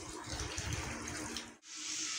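Water runs steadily from a kitchen tap while chicken, onions, tomatoes, garlic, ginger and chillies are washed for Punjabi chicken pulao. The gushing stream is close and constant, then briefly cuts out before resuming.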